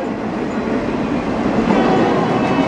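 A Union Pacific high-and-wide freight train carrying windmill parts rolls past Painesville Depot, a loud, steady rumble of wheels and cars on the rails up close, with no talk.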